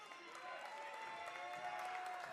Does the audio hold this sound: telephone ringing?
no